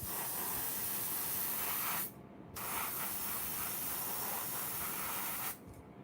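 An airbrush sprays paint in steady, soft hissing bursts that break off twice into short pauses before starting again.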